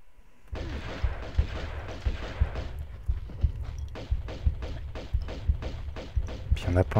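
Enemies fire shotguns in Tomb Raider II, a fast run of booming blasts and thuds under someone talking.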